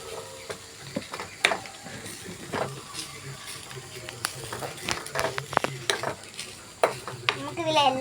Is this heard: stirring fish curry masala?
yes